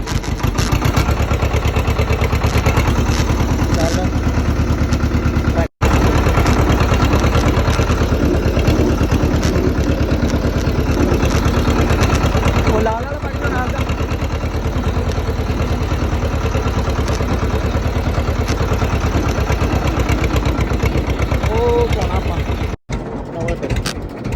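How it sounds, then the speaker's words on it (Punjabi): A tractor engine runs in a steady low idle, loud and close, its even throb continuing for the whole stretch with two brief cutouts, while voices talk faintly underneath. "ਕਰ ਲਿਆ ਟਰੈਕਟਰ ਸਟਾਰਟ"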